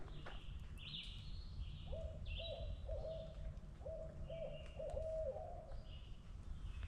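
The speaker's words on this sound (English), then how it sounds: "That owl's there, and there's another one back here talking to him." An owl hooting in short repeated calls from some distance, answered by a second, fainter owl, over a low outdoor rumble on a trail at Summit Lake State Park, Indiana.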